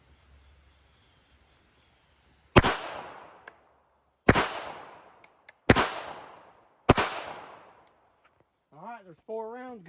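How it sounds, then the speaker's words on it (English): A Glock 17 pistol fires four sharp, loud shots at a meat target outdoors, spaced a second or two apart with echoing decay, insects chirping in the background and a brief voice at the end. "So we're going to put them in my full-size Glock 17 duty gun."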